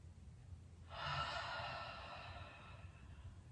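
A slow, steady inhale of deep yoga breathing, a soft airy rush that swells in, holds for about a second and a half, then tapers away, close and quiet against a faint low hum.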